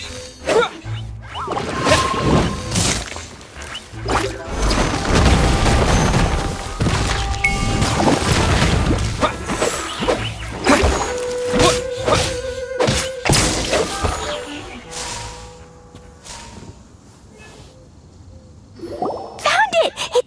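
Explosions in Genshin Impact, a dense run of booms, thuds and crashing impacts during combat with game music and effects, fading toward the end, with character voices talking over parts.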